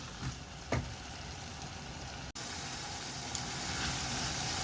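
Minced meat fries in a pan for a moussaka-style eggplant dish, a steady close sizzle with a couple of brief scrapes or clinks early on and a momentary dropout midway.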